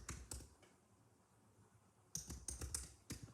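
Quiet clicks of computer keyboard typing while searching a help centre, a few keystrokes up front, then a pause and a quick run of taps near the end.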